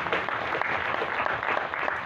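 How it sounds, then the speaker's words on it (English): Steady, dense audience applause fills a nonprofit pitch session, a continuous wash of many hands clapping at even loudness with no voices standing out. "Can we give a round of applause for that?"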